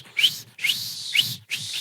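A human voice imitating the shrill whistle blown in the film Titanic, three rising piercing blasts separated by brief pauses, close and loud.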